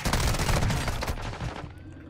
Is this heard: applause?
no